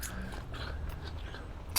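A person chewing a crunchy, exotic tropical fruit in a tropical food forest in Brisbane, with close, soft crunching and biting sounds over a low background rumble and no talking.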